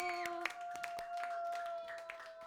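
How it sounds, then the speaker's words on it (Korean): Children clapping for a visiting teacher at a church children's worship service, a scattered patter of small hands mixed with a sustained tone and background voices. "박수."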